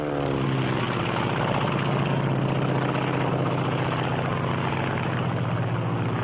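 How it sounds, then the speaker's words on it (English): A Japanese Zero WWII fighter aircraft's engine drones loudly and steadily throughout, a constant propeller-driven roar close by with no voices. "This is the Japanese Zero."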